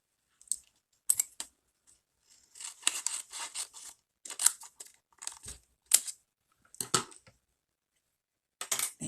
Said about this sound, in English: I'm going to cut this other piece off here.